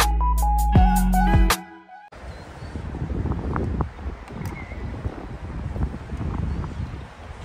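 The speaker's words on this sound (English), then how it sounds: "It's a little bit windy" Outdoor wind on a sunny day near trees blows as a steady rushing buffet against the microphone, moderately loud, following a short burst of electronic tones at the start, with faint rustling throughout.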